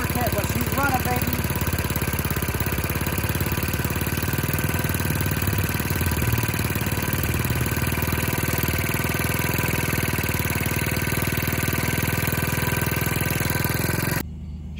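An 80cc big bore kit engine on a small motorbike idling steadily close by, a continuous even putter that holds for about fourteen seconds before cutting off abruptly.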